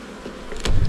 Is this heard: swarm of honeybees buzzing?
yes